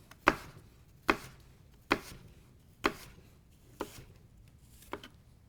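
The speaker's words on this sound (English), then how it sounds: "we're going to be using the claw and slicing through the apple" A knife slices through an apple onto a cutting board, six sharp thuds at an even, unhurried pace, each hitting the board and then dying away quickly. Close and clear, with no voices.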